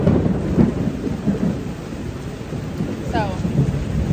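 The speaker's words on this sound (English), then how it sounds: "it's pouring rain at dinner" Heavy downpour at dinnertime in St. Pete/Clearwater, Florida, a steady dense roar of rain with low rumbling thunder rolling underneath throughout, loud and continuous with no talk.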